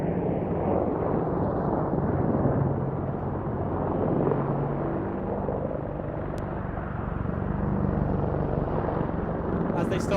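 Gunship helicopter flying a 270 degree wing over above the centre of the airfield at a VE Day air show, a continuous heavy rotor and engine rumble that rises and falls gently in loudness, with no voices heard.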